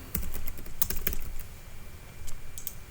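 Fast typing on a computer keyboard while entering ID, name and address fields, with clustered key clicks in quick bursts and short pauses, close and fairly loud with no talk.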